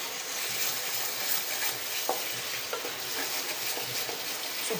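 Pickle sizzles in a small amount of oil in a pan, a steady close frying hiss with occasional light scrapes of stirring, and nobody talking.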